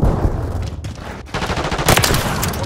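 Dense automatic gunfire from Call of Duty Modern Warfare 3 rattles loud and continuous, rapid bursts overlapping into a sustained fusillade with a brief lull midway before the firing surges again.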